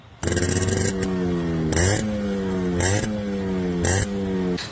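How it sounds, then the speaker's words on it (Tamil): A custom Yamaha RX-100 motorcycle engine revs loudly up close, its throttle blipped about once a second over a steady idle, with no voices. "இப்போ இந்த வண்டியோட பீட் சவுண்ட் கேட்கலாம் வாங்க."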